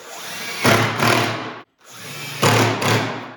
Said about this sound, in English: I can take my 3/32 drill bit and I can drill through pre-drilling into my legs